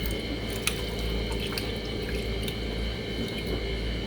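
Citric acid dissolved in hot water is poured over grey Shetland wool in a dye bath, making a steady, continuous splashing and trickling of liquid up close, with no talk.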